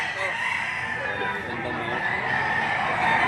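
A rooster offered for sale crows in a long, strained call that fills the whole moment, loud and close, with no other voices over it.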